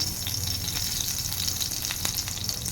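Mustard seeds crackle and pop in hot oil for a chutney tempering, a dense close sizzle with scattered sharp spluttering pops, no voices.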